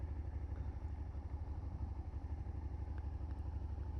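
A Suzuki SV650X motorcycle cruises slowly with no throttle applied, its engine a low, steady thrumming pulse, close and continuous with a light mechanical clatter on top.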